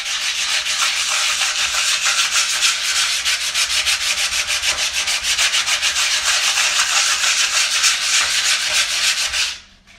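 A patched wall is hand-sanded in rapid, even back-and-forth strokes, a loud, close rasping scratch that runs steadily for the whole stretch and then stops abruptly.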